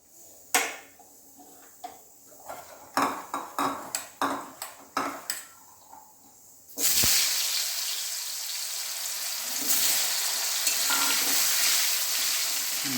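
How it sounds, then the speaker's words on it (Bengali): Potatoes seasoned with salt and turmeric tipped into hot oil for frying: first a series of sharp knocks and clinks of utensils, then a sudden loud, sustained sizzle that continues to the end. "এবার আমি আলুটা ভেজে নেব এই আলুটা একটু নুন হলুদ দিয়ে আলুটা ভেজে নেবো"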